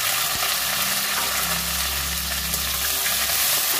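Bay leaf, dried red chilli and whole cumin sizzling in hot mustard oil, a steady bright hiss with faint crackles running throughout, close and even, with no voices.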